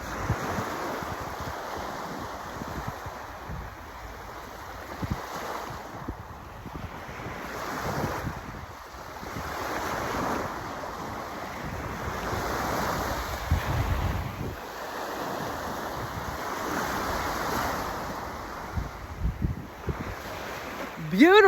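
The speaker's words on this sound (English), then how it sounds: "Take in the waves, take in the sunset" Ocean waves wash steadily onto a beach at sunset in a continuous, fairly loud surf roar with gentle swells, mixed with wind buffeting the microphone; no one speaks.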